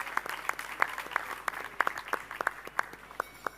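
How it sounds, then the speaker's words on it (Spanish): Scattered, sharp individual claps of applause at a sports-and-health round-table event, irregular and fairly close, with a few hands standing out over a quiet room and no talking. "Pido un fuerte aplauso para Narciso"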